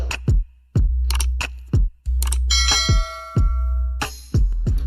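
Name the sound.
notification bell sound effect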